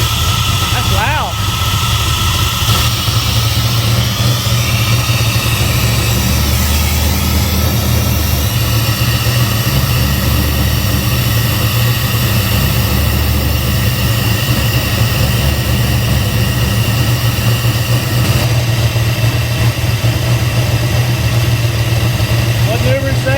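A Ford 302 V8 fitted in a 1957 Fairlane idles loudly and steadily up close, a continuous deep rumble with a hissing edge and no breaks, while people talk over it.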